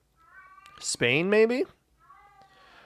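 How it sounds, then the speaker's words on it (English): A house cat named Seamus yowls and howls loudly indoors, a drawn-out wavering cry with a fainter follow-up, while a person speaks briefly. "Apologies if you can hear the cat yelling in the background."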